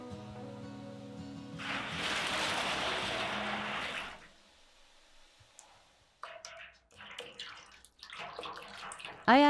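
Hot water poured from a bucket into an indoor bath, a loud splashing gush lasting a couple of seconds, then quieter water movement and soft clinks.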